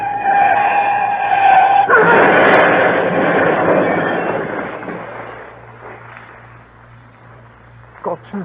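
Radio-drama effect of a motor accident: a stolen large green Daimler skids, a loud, long tyre screech bursting in after a brief voice and fading slowly over several seconds.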